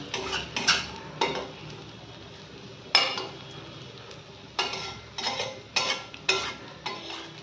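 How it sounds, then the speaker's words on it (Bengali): Soft sizzle of fish fat frying in a pan with little oil, broken by repeated scraping and clinking strokes of a spatula against metal at an irregular pace. "এই যে দেখুন হয়ে গেছে আমার মাছের তেল ভাজা"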